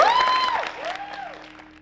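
Audience applause after thanks to a salsa dance team and their instructors, a moderate wash of clapping with a voice or whoop rising over it early, then tapering off over a couple of seconds.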